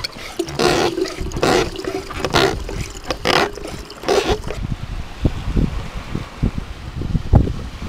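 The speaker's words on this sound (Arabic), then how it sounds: "بعبي الدبة إن شاء الله مويه" Water sprays from a shattaf hand sprayer into a jug, a steady hissing gush that stops partway, followed by quieter trickles, drips and small knocks nearby.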